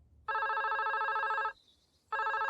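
A telephone rings with an electronic trilling bell, two bursts separated by a short pause, clear and alone with no voices.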